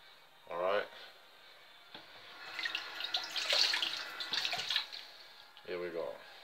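Warm and cold tap water runs into a bowl for pizza dough in short bursts, a soft splashing flow that starts, stops and resumes, with quiet gaps between pours.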